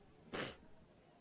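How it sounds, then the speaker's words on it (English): A single sharp sneeze bursts out close to the microphone, a brief explosive puff of breath that quickly fades into quiet room tone. "I felt those sneezes."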